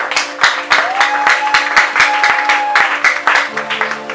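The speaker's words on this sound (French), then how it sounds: "Est-ce que tu peux acclamer pour Jésus?" A church congregation claps and cheers for Jesus during a French-language worship service, a loud crowd of rhythmic applause with hand claps hitting in a steady beat over sustained music tones.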